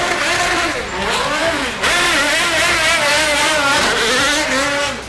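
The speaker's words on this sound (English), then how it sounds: "we'll just let you see and, more importantly, hear what this car can do." A 575-horsepower sports car engine revs hard and accelerates, loud and close, its rising and falling pitch sweeping up through several gear-like surges across the whole stretch.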